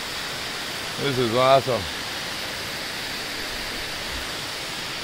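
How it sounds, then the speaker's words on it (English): A trailside waterfall at Jones Falls, Tennessee gives off a steady broadband roar throughout, while someone briefly speaks over it near the start. "no rush here at Johnson Falls, or Jones Falls, one of them waterfalls on the trail"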